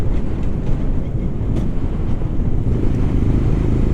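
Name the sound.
Royal Enfield Scram 411 motorcycle riding downhill, shifting gears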